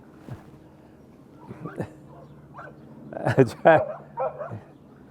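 A dog cured of cancer, heard in a few short whimpers, yips and soft barks scattered between pauses, close by, with someone talking in between.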